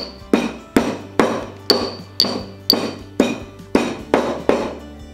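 Whole black peppercorns, cloves, small green cardamom and cinnamon stick being pounded in a mortar for mutton curry: ten steady, evenly spaced heavy thuds with a ringing clink, loud and close, no voices.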